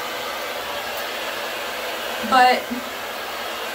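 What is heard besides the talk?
blow dryer drying hair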